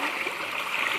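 Water rushing and splashing at the Chhalchhaliya waterfall, a steady broadband roar that stays loud and continuous throughout, with no talk over it.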